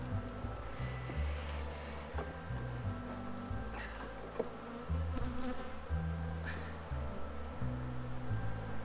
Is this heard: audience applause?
no